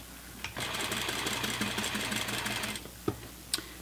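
A sewing machine runs a steady, rapid stitching burst for about two seconds while sewing the seam of a pair of pants, close and fairly loud, then stops, followed by a couple of sharp clicks.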